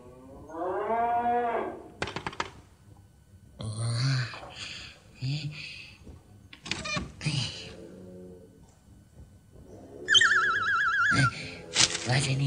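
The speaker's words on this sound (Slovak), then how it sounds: "Vaša múkajúca a tancujúca krava" A wooden cow in a Slovak puppet-style episode gives several drawn-out moos, with other lowing and animated voices mixed in over about twelve seconds.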